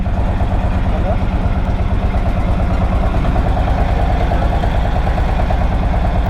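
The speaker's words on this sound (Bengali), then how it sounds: "ট্রলার ছেড়ে দিছে" A boat-type trawler engine pulls away mid-river near Khulna, a loud, steady low chugging drone that holds unbroken from start to end.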